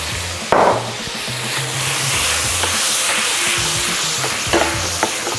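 White wine hits a hot pan with butter and lemon juice in a Michelin-starred restaurant kitchen, giving a loud, continuous sizzle with stirring and scraping clatter and no talk.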